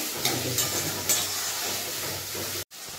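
Onions sizzle while frying in a pan for a mutton curry, a continuous close hiss with a few soft stirring scrapes, briefly cut off near the end, no voices.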